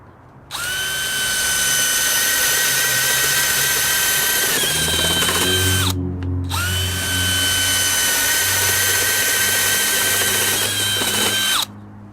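DeWalt Flexvolt DCD999 1/2-inch hammer drill on speed 1 with side handle fitted, running loud and steady in two long bursts with a brief pause between, motor whine shifting in pitch as the bit bites.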